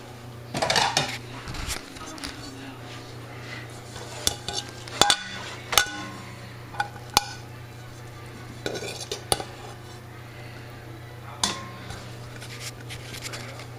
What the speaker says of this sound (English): Let me get another plate.